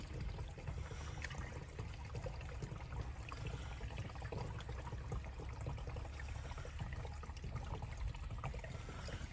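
Water pours and trickles steadily into a rain water tank pump while it is being primed, a continuous splashing flow close by with no pauses.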